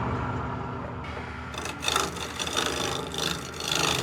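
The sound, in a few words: wood lathe turning a chair part with a large gouge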